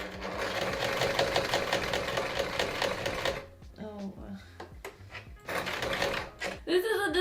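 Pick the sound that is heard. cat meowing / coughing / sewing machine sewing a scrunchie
sewing machine sewing a scrunchie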